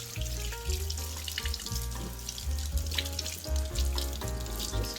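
Tap water runs steadily into a bathroom sink while a makeup brush is rinsed under the stream, a close, continuous splashing with small shifts as the brush moves.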